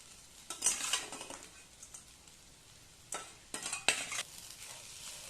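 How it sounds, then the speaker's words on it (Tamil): Fried raw banana pieces are stirred into a spiced pan mixture: a few distinct scraping, clinking strokes of a utensil against the pan, separated by quieter stretches of faint sizzling. "இப்போ இதை நல்லா மிக்ஸ் பண்ணி விட்டுருங்க"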